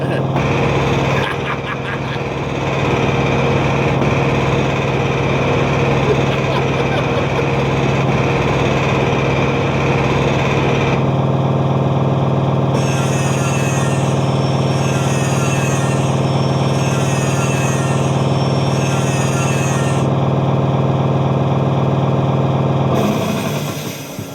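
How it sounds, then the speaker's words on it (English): An air compressor runs in a shop with a steady, loud motor drone and rattle that shifts pitch partway through and then stops at the end. Voices can be heard over it. "There it goes. Air compressor, yep."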